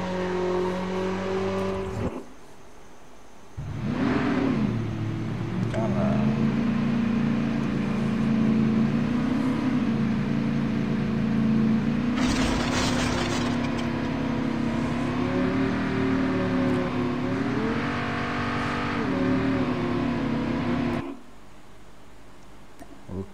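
A motorbike engine in the Call of Duty Mobile video game revs and drones steadily for about twenty seconds, pitch rising and falling as it accelerates, with brief dips in between and faint game sounds around it.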